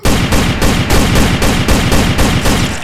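Rapid bursts of gunfire in a comedy skit, a loud, steady string of shots repeating about every third of a second without pause, close and harsh.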